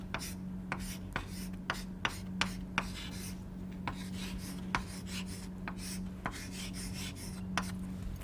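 Chalk or marker taps and scrapes on a board during a lecture on crystal growth, short sharp strokes recurring irregularly over a quiet steady hum.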